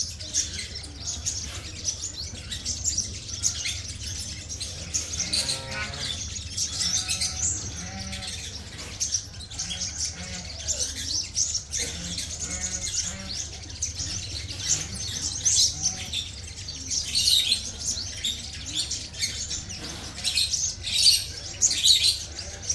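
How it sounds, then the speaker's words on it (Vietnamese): A newly caught captive sunbird calls with shrill, rapid chirps and squawks, near and loud, answering another caged bird beside it for the whole stretch. "Đó, con này thì chim mới mà rít ghê thiệt."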